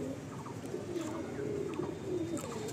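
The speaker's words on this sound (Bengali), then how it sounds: "পায়রাগুলো সব ব্রিডিংয়ে আছে" Mundi Sada pigeons kept for breeding coo in low, rolling warbles with a few faint higher chirps, steady and close throughout.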